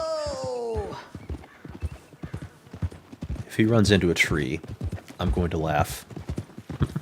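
Rhythmic hoofbeats of a galloping horse in Red Dead Redemption 2, a brisk clip-clop running through the whole stretch beneath game characters' dialogue and a player's commentary, with a brief whinny-like voiced sound.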